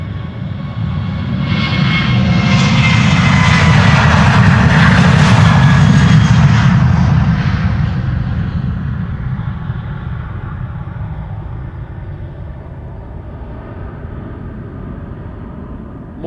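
A KLM jet airliner, a Boeing 737, takes off at Schiphol Airport, bound for London Heathrow: a loud, broad engine roar that builds over several seconds, peaks, then slowly fades as the aircraft climbs away.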